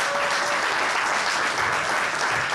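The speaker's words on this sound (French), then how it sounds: "Une annonce et un tonnerre d'applaudissements." A dense burst of applause from a gathered crowd greeting an announcement of the cocoa farm-gate price, steady and full for the whole moment with no voices over it.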